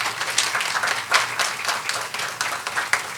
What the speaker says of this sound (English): Let's extend a warm and hearty welcome with a big round of applause